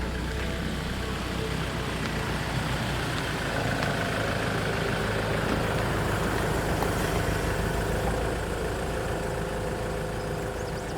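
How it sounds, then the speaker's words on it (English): A car arrives on a cold, frosty morning with its engine idling, a steady, loud, low rumble that runs unbroken throughout, with no voices. "when I heard the sound of Gerry's car arriving."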